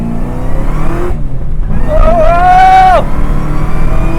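A 690 rwhp Camaro ZL1 pulls hard in second gear, with a loud, steady engine roar and a rising whine that climbs and then cuts off near the end. Nobody speaks.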